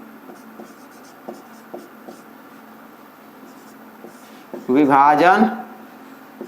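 A pen scratches out a handwritten maths solution on paper in short strokes and taps during a Euclid division lemma lesson, fairly quiet, before a voice speaks briefly in Hindi over it.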